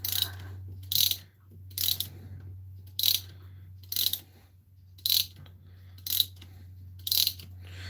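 A dry, sticky mainspring in a Centurion 35-day clock being wound with a multi-key winder: eight sharp ratcheting clicks come roughly once a second, close and crisp over a low steady hum.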